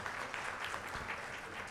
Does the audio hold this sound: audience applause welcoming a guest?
yes